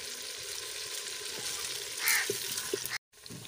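Onions fry in a pan for a salan, giving a steady close sizzle with a few clinks and stirs. The sound cuts out briefly near the end, then resumes.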